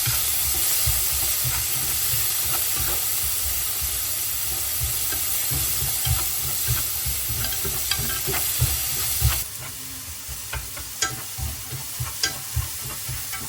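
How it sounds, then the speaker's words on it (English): Chopped tomatoes sizzle and hiss in a hot pan while being stirred, a steady close frying wash with scraping clicks that grow sharper and more distinct toward the end. "Then I'll add the chopped tomatoes and stir that until they soften and release their natural sweetness and aroma."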